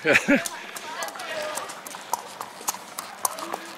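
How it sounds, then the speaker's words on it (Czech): Horses' hooves clop in a quick, uneven rhythm close by at a Masopust carnival procession in Řehlovice, with voices and crowd noise mixed in. "už přijíždějí koně"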